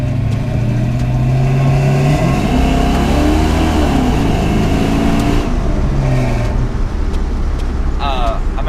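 LS-swapped Chevrolet C10 hitting the rev limiter before its tune, a loud close engine held at high revs that stutters and bounces rhythmically, with the roar cutting out briefly near the end.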